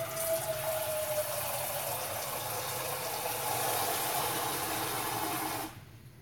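Tap water runs steadily into a cooking pan, a loud continuous rushing splash with a faint rising tone as it fills, then it cuts off abruptly near the end.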